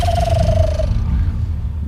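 A man imitates an owl hoot by blowing through his cupped hands, making a single sustained, slightly falling hollow tone close up over a low rumbling background that trails off into noise.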